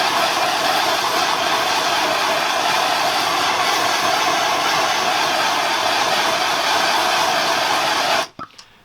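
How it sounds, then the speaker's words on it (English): Steady roaring hiss of a torch flame heat-shrinking a wire connection, loud and continuous for about eight seconds before cutting off abruptly. "When you're heat shrinking, it's good to keep things in motion."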